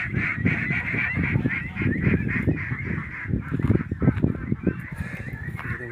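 A flock of ducks calls continuously with repeated harsh, honking cries, close by and fairly loud, with overlapping voices throughout.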